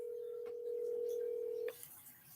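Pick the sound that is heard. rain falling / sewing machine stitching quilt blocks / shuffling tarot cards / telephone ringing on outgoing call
telephone ringing on outgoing call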